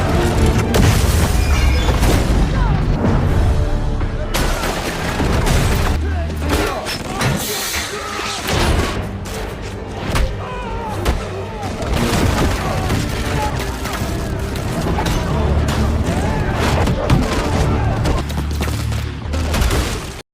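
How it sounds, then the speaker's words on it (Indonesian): Rapid, dense gunfire from a film action scene, as several henchmen fire repeatedly at one man; loud, continuous bursts and booms mixed with a music score over the whole stretch, with talk faintly underneath. "anak-anak buah Cyrus langsung melesakkan tembakan bertubi-tubi ke arah Joe"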